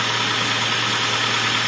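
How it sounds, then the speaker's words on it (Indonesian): A Toyota Avanza engine, noisy after repeated overheating, idles with a steady mechanical clatter from piston knock, close and continuous with no voices. "Tapi begini nih, suara pistonnya jelas."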